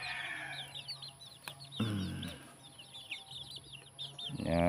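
Chickens cluck and murmur nearby in quick, scattered bursts, with a louder squawk midway and some rustling.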